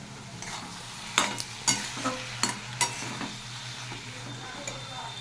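Prawns and prawn heads sizzle quietly in a pan with turmeric, cumin and bottle gourd, as a spatula strikes and scrapes the pan in several sharp, separate knocks over a soft frying hiss.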